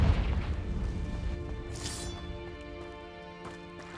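Confringo spell blast in the Hogwarts Legacy video game: a loud booming burst with a rumbling decay, a brief crackling flare midway and faint pops near the end, no voices.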